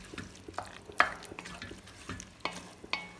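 Onions cooking in a pot for chili, with soft sizzling under a few sharp metallic clinks and stirring scrapes at irregular intervals, close and moderately quiet.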